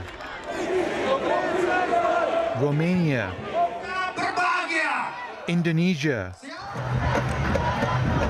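A large protest crowd demanding an end to the war in Gaza, loud shouting and chanting voices swelling and falling, mixed under a news narrator's voice listing countries.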